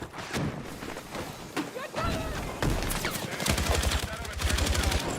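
Light machine gun fire in a shooter video game, a mix of scattered shots and thumps that build into rapid, dense automatic bursts toward the end.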